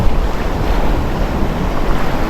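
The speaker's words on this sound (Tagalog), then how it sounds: "medyo malalaki yung alon ngayon" Big ocean waves wash and rumble steadily around a fishing boat out at sea, with strong wind buffeting the microphone throughout and no talking.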